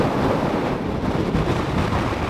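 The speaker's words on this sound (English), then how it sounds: "Oh, it's really windy up here." Strong wind buffeting on an exposed high road, a steady loud roar blowing across the microphone with no break.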